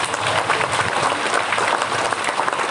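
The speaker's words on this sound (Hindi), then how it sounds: "हम जोरदार तालियां देकर धन्यवाद देंगे" Dense, loud applause from a gathered congregation at a parish cultural program celebrating Nuakhai in Gothgaon, a steady wash of many hands clapping at once.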